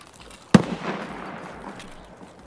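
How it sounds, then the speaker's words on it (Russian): A single sharp gunshot in the game Escape from Tarkov lands about half a second in, with a loud crack followed by a fading echo tail and faint distant reverberation, heard alone without speech. "Там сейчас выстрелы."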